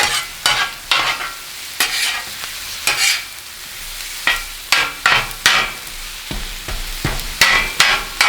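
Frozen steaks fry on a Blackstone steel griddle with a loud, close sizzle, broken by repeated sharp metal spatula scrapes and taps in an uneven rhythm. No voices are heard.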